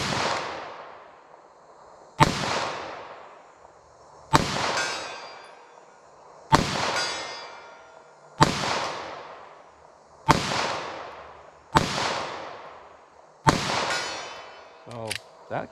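Eight sharp gunshots from a handgun with a 3.2-inch barrel during outdoor ballistic testing ring out evenly, about two seconds apart, each loud crack trailing off in a short echo.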